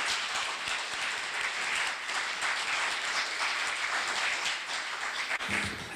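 An audience applauding in a large university auditorium at a remodeling ceremony, a dense steady wash of many hands clapping throughout.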